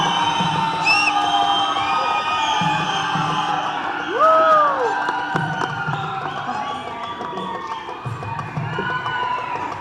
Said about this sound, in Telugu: ఒక్కసారి గట్టిగా చప్పట్లు.